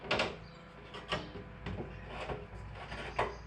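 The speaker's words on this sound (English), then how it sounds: "Spin your glass 90 degrees, slide it into the door cavity." Window glass for a Toyota Land Cruiser FJ40-series door slides into the door cavity, producing a few soft scraping and knocking bumps, near and fairly quiet, with no speech.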